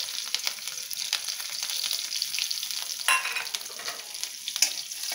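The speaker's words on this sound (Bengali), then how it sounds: "মুড়োটা তুলে নেবার পর আমি ওই তেলেই তাতে কাঁচা লঙ্কা আর একটু কালো জিরে ফোড়ন দিলাম।" Green chillies and nigella seeds hit hot oil left from frying a hilsa fish head, crackling and spitting in a lively, close sizzle with sharp pops scattered throughout.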